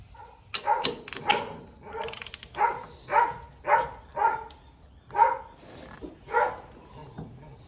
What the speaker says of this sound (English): You have to excuse my dog.